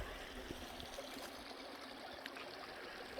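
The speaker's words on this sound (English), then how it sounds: "Check out this creek." Creek water in Gates of the Arctic National Park in Alaska's Brooks Range flows and trickles steadily, a continuous close babble with faint splashes and no talking.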